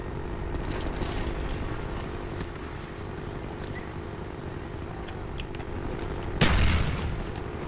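Sustained heavy gunfire from a helicopter chopper gunner in Call of Duty Black Ops multiplayer, a dense rumbling roar with rapid crackling bursts and a loud blast near the end.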